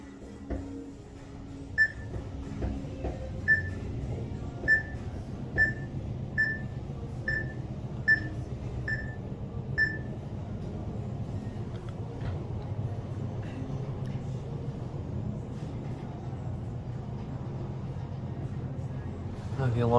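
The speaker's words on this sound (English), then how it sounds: "This one's got the newer chimes." A series of bright, evenly spaced electronic elevator chime tones rings out over a low mechanical hum in a Mitsubishi traction elevator at Caesars Palace, Las Vegas, then fades, leaving steady machine rumble.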